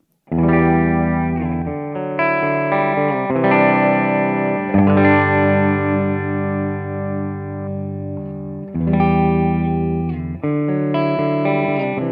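Electric guitar on a PRS SE CE 24 using humbucker pickups with a clean, reverb-washed tone, ringing chords and sustained notes played steadily with brief pauses, close and fairly loud.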